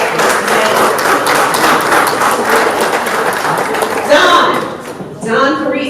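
Audience applause at a cannabis community town hall in June 2024, a dense, steady wash of clapping from a crowd sustained for several seconds before thinning out, with a voice talking over the end.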